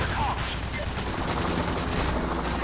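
Dense, continuous gunfire rattles throughout a co-op heist shootout in PAYDAY The Heist, loud and overlapping with no break, with voices faintly beneath the barrage.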